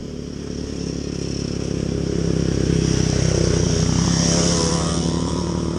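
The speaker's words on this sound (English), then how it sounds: "a lot of bikes" Several motorcycles passing on a busy road, a loud close engine roar that swells and holds as the bikes go by, with no talk.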